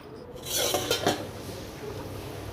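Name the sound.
chicken curry boiling in a pot as the lid is opened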